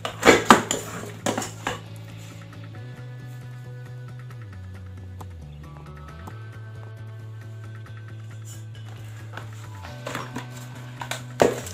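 The metal inner pot of a Supor electric rice cooker, a unit that powers on but won't heat, is handled with sharp clanks and rattles at the start and again near the end, over a steady background hum.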